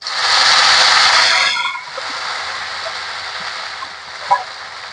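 Washed garlic greens dropped into hot oil with fried chillies give a loud, close hiss that fades after about two seconds into a quiet simmer, with a faint clink near the end and no voices.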